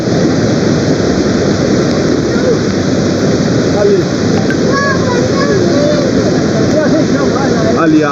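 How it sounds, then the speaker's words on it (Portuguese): Floodwater pours in heavily, a loud, continuous rushing roar like a torrent that fills the whole stretch without pause, while agitated voices speak over it. "Ali, a água tá entrando ali, olha lá."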